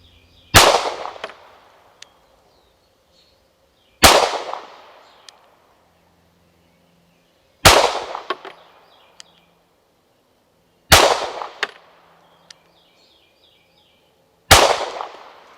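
Five sharp, loud shots from a Tisas PX9 pistol fired at a range target about 15 yards away, evenly spaced a few seconds apart, each with a short ringing decay.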